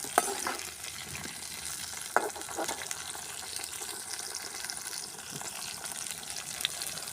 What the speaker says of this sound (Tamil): அதெல்லாம் போட்டிருக்கேன் வதங்கட்டும்னு போட்டு வச்சுருக்கேன்